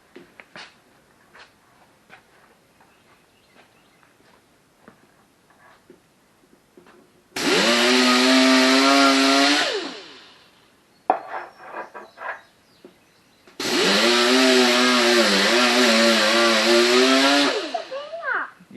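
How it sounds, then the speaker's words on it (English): A grinder strips paint and body filler from a 1969 Mercedes 280SL, whining loudly in two sustained bursts of several seconds each with quieter handling noises and faint talk in between. "you take your grinder, all right, pull your trigger"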